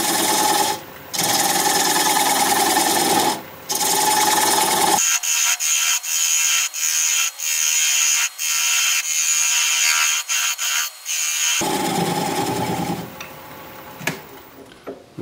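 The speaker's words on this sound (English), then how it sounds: "I'm going to take a 3/8 inch bowl gouge to remove that tenon" A wood lathe spins a driftwood bean pot while a 3/8 inch bowl gouge cuts away the tenon, giving repeated rough scraping bursts broken by short pauses, with the motor whine continuing underneath.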